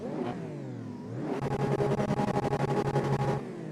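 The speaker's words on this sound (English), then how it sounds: "you can hear something whining there, like electrical" A Lamborghini Revuelto engine in Assetto Corsa revs up and down with a rising, high electric whine over it, then settles into a rapid pulsing roar. No talking.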